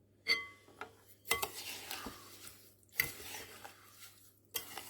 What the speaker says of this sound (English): And I'm going to give that a stir.